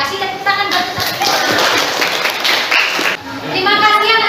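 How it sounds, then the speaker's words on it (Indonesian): Classroom of children clapping together for quiz winners, a dense continuous patter of small hands with kids' voices chattering over it, fairly close and steady throughout. "tepuk tangan buat kita"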